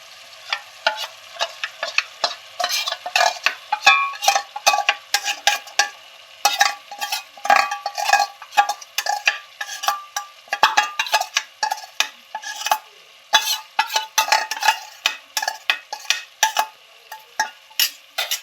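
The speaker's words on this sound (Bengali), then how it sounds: "অ্যাড করার পর আমি আবারও কষিয়ে নেব সব মশলাটাকে একসাথে।" Ground spice paste including Kashmiri chilli powder stir-fried for prawn malai curry, rapid rhythmic scraping and tapping of a spatula against the pan over a faint sizzle, close, continuous and without voices.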